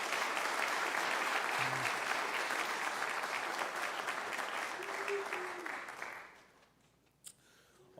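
A high school audience at a senior awards night gives the graduating seniors a sustained round of applause, steady and full for about six seconds before tapering off, with a brief voice in the background.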